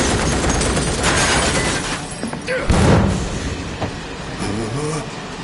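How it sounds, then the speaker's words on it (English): A train in the video game Final Fantasy VII Remake rolls along with rattling wheels, metallic squeals and a heavy thud, loud and continuous throughout. "Need to slow the train down."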